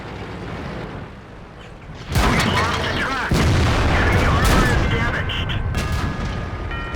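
A loud booming tank cannon shot from an IS-3 in World of Tanks is followed by a second blast and rumbling battle noise, with faint game tones near the end.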